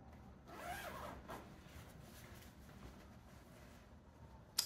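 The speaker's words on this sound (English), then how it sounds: "go ahead and open up the zipper" A zipper being opened on a sewn garment during a sewing project, a soft brief rasp near the start followed by quiet handling rustle, close and faint.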